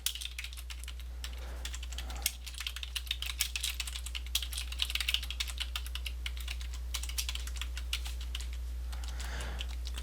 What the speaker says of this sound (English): So I'm going to type in all of my information.